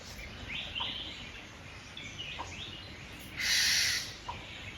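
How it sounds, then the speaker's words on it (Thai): Several birds call faintly in a quiet forest, brief chirps scattered over a soft background hiss, with one louder burst near the end. "เสียงนกอะไรร้องอะ"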